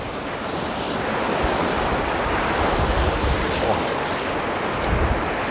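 Sea waves roll and break steadily on the beach at Anapa, a loud continuous wash of surf with wind buffeting the microphone and no voices.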